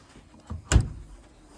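A Hoover front-loading washing machine door pulled open: a single short clunk and release with a faint click just before it, close by and otherwise quiet.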